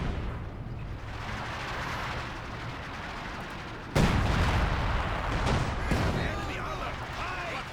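ML-20 artillery fire in Company of Heroes 2: a steady rumbling battle bed, then a sudden loud heavy blast about halfway through followed by booming impacts and crackling debris.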